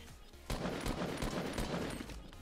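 Fortnite gunfire crackles in a steady stream of rapid, sharp shots, loud and continuous with no talking, like sustained automatic fire in a battle royale match.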